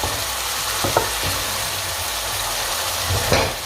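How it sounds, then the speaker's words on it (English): Vegetables for a savoury vegetable pie sizzle steadily in a frying pan, a constant hiss with a few soft stirring scrapes and bumps near the start and end. "stir together."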